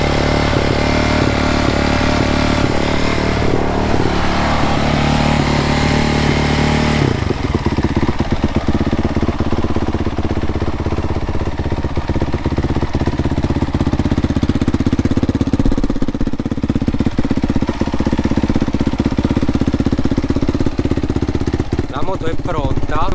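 A 2017 Honda CRF 450R dirt bike, rebuilt after piston and valve clearance maintenance, is started and runs with a loud, harsh rapid engine note that shifts from a rough crank into a steady idle, close and continuous.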